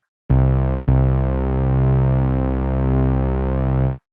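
A synth tone crunched through Camel Crusher distortion in FL Studio holds one buzzy, harmonically rich note. It cuts out briefly just after starting, then sustains steadily and loud before stopping abruptly.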